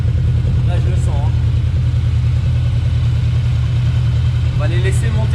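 Up close, a Yamaha VMAX motorcycle idles with a steady, deep, muffled rumble, and a voice comes through in brief bursts over the engine.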